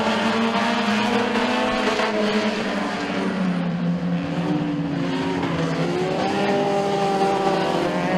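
Race cars tear around Stateline Speedway in a heat just after the green flag, their engines wailing and rising in pitch together as the pack passes, loud and continuous with no talking.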